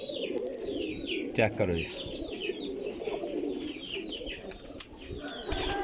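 Teddy pigeon of the Mian Sahib line, kept alongside other fancy pigeons, coos steadily in a chorus of birds, with someone talking briefly over them.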